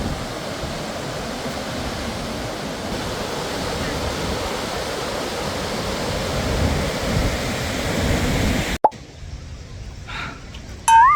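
Strong, steady rushing roar of Bow Falls, a broad waterfall, heard up close for most of the stretch before cutting abruptly to quieter outdoor ambience near the end.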